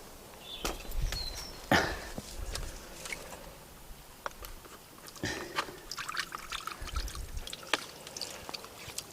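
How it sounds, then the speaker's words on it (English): Water from a watering can is poured through a pond pump to flush it out, giving irregular trickling, splashing and dripping with occasional handling knocks. "we will flush this out with water using a watering can"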